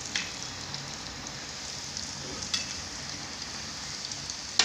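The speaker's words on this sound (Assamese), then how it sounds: "টুকুৰাখিনি ভাজি হৈ গ'ল।" Khurma dough pieces fry in hot oil, giving a soft, steady sizzle with a few faint pops scattered through it and no voices.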